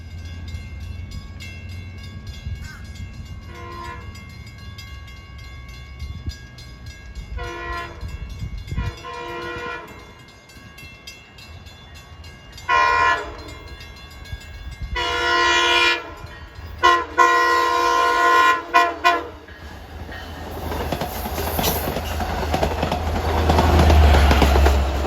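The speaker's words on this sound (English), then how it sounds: "Get to hear those lovely K13A horns." A Long Island Rail Road train on the Montauk Branch sounds its K13A horns in a series of chords, short and long blasts in a pattern, loud and fairly near over rumbling wheels and rail noise.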